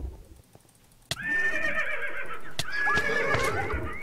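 Zombie horses in Minecraft with the Mo' Creatures mod neigh and whinny loudly after a short quiet lead-in, two drawn-out whinnies in a row with nearby game noise.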